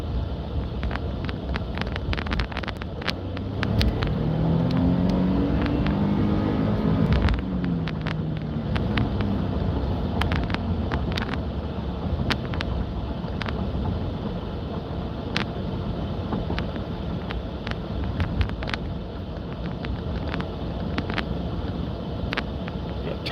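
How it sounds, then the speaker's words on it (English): Diesel truck with turbos cruising on the road, a steady engine drone with a rising whine around the middle, buffeted by wind noise and clicking cab sounds throughout, with no one speaking. "Turbos in the truck."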